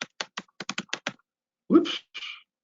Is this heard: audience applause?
no